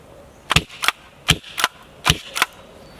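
An airsoft gas revolver fires six sharp cracks in three quick pairs, each pair about a third of a second apart, close and loud with short gaps of quiet between them.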